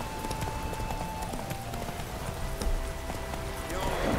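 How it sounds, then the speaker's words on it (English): Hooves of the horse Roach in The Witcher 3: Hearts of Stone, a quick rhythmic clip-clop that runs steadily and sits fairly low under spoken dialogue and ambient game sound. "Spooking my horse. Roach doesn't like ghosts."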